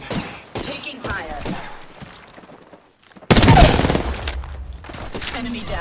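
Bursts of automatic gunfire and booms crackle in a battle royale video game, with a dense loud fusillade in the second half and voice callouts from characters around the shots.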